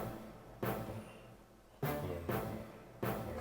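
A Nexus synth hit preset, CRB Hit 6, fires four separate stabs, each a sharp bright attack that decays before the next, spaced unevenly, fairly quiet and with no other sounds.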